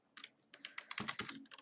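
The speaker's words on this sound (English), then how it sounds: "I have to type some more things" Keys clatter on a computer keyboard while Java code is entered for a Minecraft mod, a quick irregular run of close, crisp clicks with short pauses and no talking.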